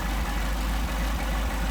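An engine fitted with Solex 44PHH carburetors idles after being revved, a loud, steady low rumble with a regular pulsing lope, close by and alone.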